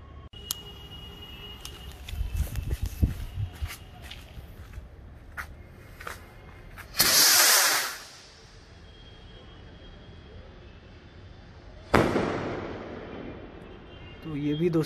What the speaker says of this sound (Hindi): चलिए अब सुपरस्टार रॉकेट को जलाते हैं